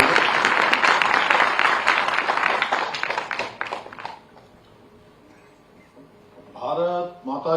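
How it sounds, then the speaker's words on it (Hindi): An audience at an education department event in Dehradun claps loudly to welcome the chief minister, a dense burst that fades out after about four seconds, followed by a quiet pause and then a voice speaking. "जोरदार तालियों से माननीय मुख्यमंत्री का पुनः स्वागत करेंगे।"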